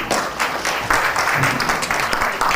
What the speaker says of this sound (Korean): 박수 환영해 주십시오.